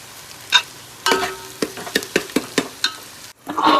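Tomatoes go into a large pot of frying onions for pav bhaji, giving a burst of sizzling followed by a run of sharp spoon-scraping stirs, close and fairly loud, with no talking.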